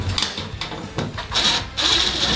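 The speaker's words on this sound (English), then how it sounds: "this little driver is working a bit better. It drives them in a bit faster" A compact electric screwdriver drives screws during floor pan installation on a 1975 Porsche 914, giving short whirring bursts with brief pauses, then a longer steady high-pitched run near the end, fairly close and without talk.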